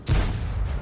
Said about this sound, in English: And of course, armor not penetrated. Ricochet.